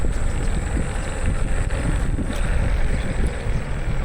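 An electric Xiaomi Electric Scooter Pro speeds along at around 29 km/h in a city, a steady loud rush of wind buffeting the microphone that covers any motor whine, with no speech.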